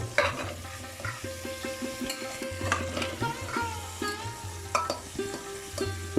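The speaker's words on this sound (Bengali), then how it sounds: "গাজরগুলো ঘিয়ে একটু ওলট পালট করে নেব" Carrot pieces, about a kilo and a half for halwa, turned over in hot ghee in a pan, with a faint sizzle under repeated clattering spoon scrapes and knocks in an uneven rhythm.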